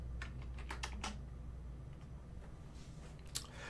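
Someone types on a computer keyboard in a short burst of close, quick clicks that then thins out to a few scattered keystrokes over a low steady hum, with no voices.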